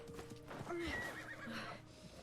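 A horse in Assassin's Creed Mirage gives a clear whinny over clip-clopping hooves, with a continuous game ambience underneath and no talk.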